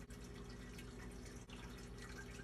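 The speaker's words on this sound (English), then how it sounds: "You guys can see the drip going on." Water dripping from a makeshift drip emitter into a saltwater aquarium, a faint, steady trickle of drips under a constant wash of water noise, with no talking.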